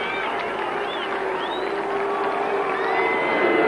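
Big crowd of Wigan rugby league supporters cheering and whooping at a Regal Trophy semi-final against Leeds, a steady broad roar with rising shouts that swells slightly toward the end.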